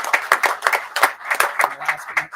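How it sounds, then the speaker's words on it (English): A few people clap by hand at a school district board meeting, a brisk, uneven run of sharp nearby claps lasting a couple of seconds, with faint voices low underneath. "we need to have a huge round of applause for Rachel."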